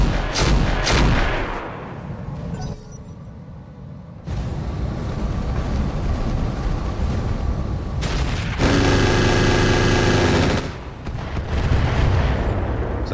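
Missile launches and an anti-missile system fire off in a RogueTech mech battle as heavy booms and a dense roar of bursts. Loud barrages alternate with quieter gaps, and a sustained clattering volley follows. There is no talking.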